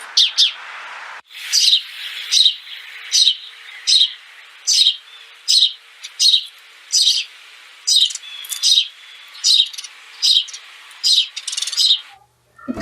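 Early-morning birdsong: a bird repeats a bright, high chirping phrase about a dozen times in a steady rhythm, fairly close and clear against a quiet background, with no talking.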